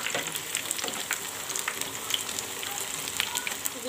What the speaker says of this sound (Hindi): दूसरी तरफ से भी हम अच्छी तरह से इन्हें गोल्डन ब्राउन होने तक इन्हें फ्राई कर लेंगे